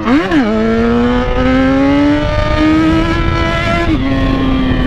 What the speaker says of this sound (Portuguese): o barulhão da XJ chega a esmirilhar tudo